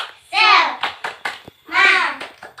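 Children in a classroom perform a rhythmic spirit clap, short sharp hand claps broken up by bursts of the kids chanting together, close and loud.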